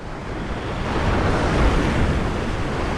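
Ocean surf breaks over a shallow bank at Gerroa, New South Wales, a broad, continuous roar of waves with wind noise across the microphone, swelling slightly midway and with no voices.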